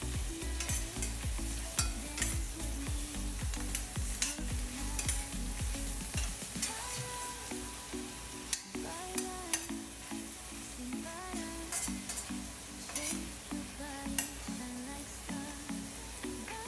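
Onion and chili stir-fried in a pan for a chicken and mung bean dish, with steady sizzling and frying plus repeated scraping and clinking of a utensil stirring, close and continuous with no talk.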